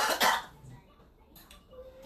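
A short, sharp cough bursts out near the mic, followed by quieter breathy shuffling and faint rustles.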